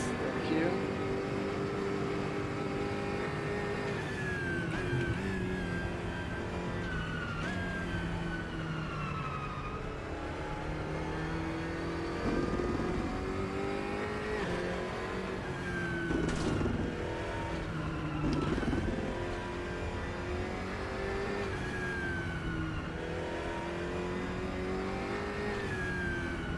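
Porsche RSR race car engine in the RaceRoom sim, racing against a Corvette and BMW in multiplayer: a steady, loud engine drone that rises and falls through gear changes and revs across the whole stretch, with other cars nearby.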